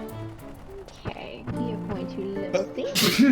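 A single sharp sneeze bursts out near the end, loud and close, right after a stretch of casual talk by a man and a woman.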